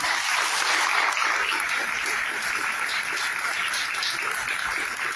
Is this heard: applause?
yes